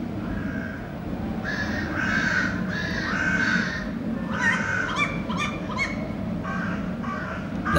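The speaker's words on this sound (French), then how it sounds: "Le cri des corbeaux est un bon signe." Crows caw in the Yellowstone wilderness with a string of harsh, repeated calls. The first calls are spaced apart, then come faster and overlap near the middle over a steady outdoor hush.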